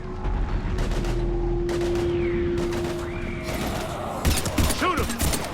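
Sci-fi combat in Mass Effect 3: scattered shots and bursts of gunfire sound under a steady battle drone, with a heavier flurry of impacts near the end, while characters shout to each other over the fighting.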